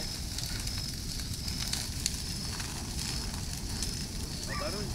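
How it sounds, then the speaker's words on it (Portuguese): Bonfire of dry leaves and old branches burning on a rural farm plot, a steady dense crackle and hiss that runs continuously at moderate level throughout, with no talk over it. "Olha o barulho de fogo."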